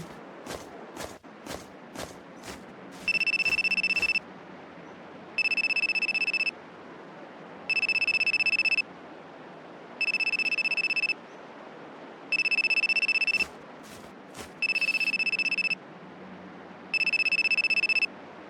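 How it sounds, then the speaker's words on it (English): A telephone rings in repeated electronic bursts, about one second each and evenly spaced, on a mountain shrine. A few sharp knocks come first, with a steady background hiss throughout and no talking. "Phone ringing."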